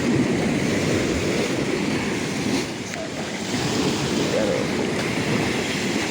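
Big ocean waves surge and wash around a small fishing boat out at sea on a blue marlin trip, a steady loud roar of surf and wind buffeting the microphone throughout, easing briefly midway before building again.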